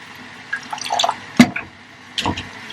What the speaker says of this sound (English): This will need a little bit more water, just a tiny bit.